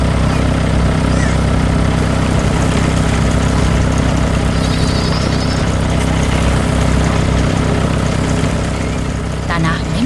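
A Volvo BM tractor engine runs steadily and loudly while digging potatoes, a dense, continuous drone that fills the whole stretch and never lets up.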